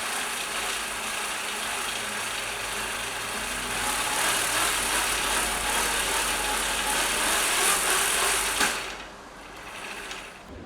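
A DIY pedal boat drivetrain with roughly 20:1 gearing spins at high speed, giving a steady, smooth mechanical whir and hum that holds for several seconds, then drops off near the end.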